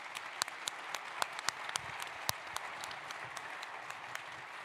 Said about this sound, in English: if you would give a round of applause for our fabulous panel.